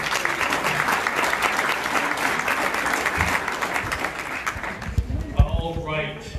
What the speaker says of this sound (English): let's have a good round of applause for Doug Griffiths